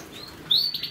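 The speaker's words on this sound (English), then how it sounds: "zebra finches here in the aviary" Zebra finches in an aviary giving a couple of short, thin high chirps, the second brighter and louder, over a quiet background.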